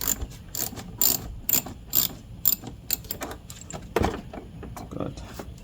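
Ratchet with a 10 mm socket loosening a car battery on a 2003 Acura TL, a series of quick close clicking bursts in irregular rhythm, fairly quiet.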